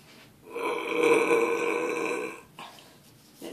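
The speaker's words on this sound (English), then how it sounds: "Gonna burp." One long, loud burp stretches for about two seconds, close up, followed by quiet breathing.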